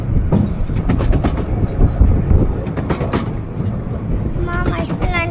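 The Cleethorpes light railway train runs with a continuous rumbling rattle and clatter, close and loud. A voice and other chatter carry over the noise.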